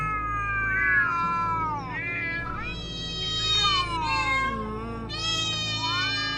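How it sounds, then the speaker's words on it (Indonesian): Several cats meow and caterwaul in long, rising and falling wails that overlap one another, loud and close with no talking. "Itu kucing yang tadi siang nyerang daganganku."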